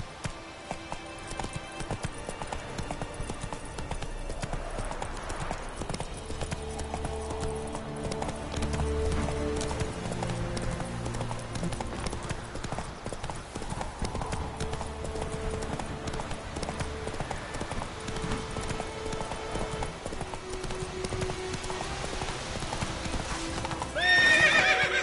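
A horse gallops in the video game Witcher 3, its hooves clip-clopping in a fast, steady rhythm with occasional neighs, mixed with game music throughout and a brief louder burst at the end.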